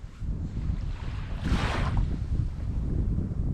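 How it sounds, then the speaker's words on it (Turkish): Wind rushes steadily across the microphone on a beach, a broad roaring noise with a stronger gust midway and a soft low rumble beneath. "Evet rüzgar yavaştan başladı."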